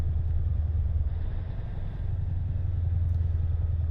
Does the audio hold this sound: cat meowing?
no